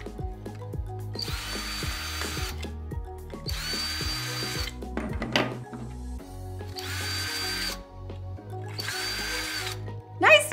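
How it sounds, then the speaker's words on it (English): Cordless power drill boring out a series of holes, with four sustained whirring bursts separated by brief pauses and rhythmic clicks between them, close and loud. "Here we go, we're gonna drill out all these holes."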